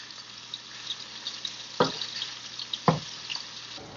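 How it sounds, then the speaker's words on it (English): Chicken fries in a pan with a soft continuous sizzle, broken by two sharp clatters as it is stirred. "let it set for a bit and let it fry"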